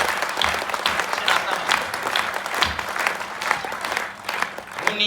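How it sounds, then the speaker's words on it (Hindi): Sustained applause from a large crowd, dense clapping throughout with a brief dip near the end before swelling again. "तो एक बार जोरदार तालियां बजाइए।"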